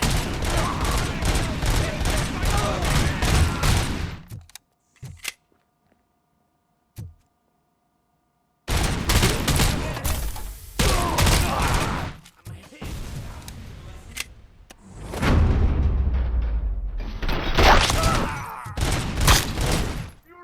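Gunfire in the RoboCop: Rogue City video game: loud bursts of rapid shots cut by short silent gaps, with heavy booming impacts later, under game dialogue and effects.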